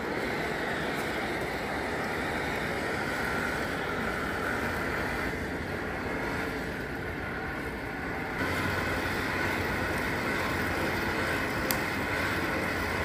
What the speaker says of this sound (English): If I have some really small thing that I gotta really watch, I can put the hand blower on it.